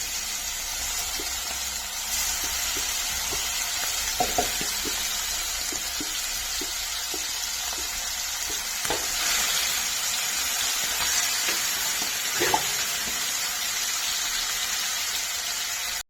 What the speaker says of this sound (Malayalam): ഞാൻ ഇതിലേക്ക് വെളിച്ചെണ്ണ ഒഴിച്ച് ഇതിലേക്ക് കൊഞ്ച് മസാലയെല്ലാം വറുത്ത് വെച്ച കൊഞ്ച് ഇതിലേക്ക് ഇടാം.